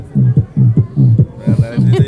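A vocal beatbox imitates muffled club music: a steady thumping bass pulse with dull, boomy kicks repeating in a dance rhythm, loud and close.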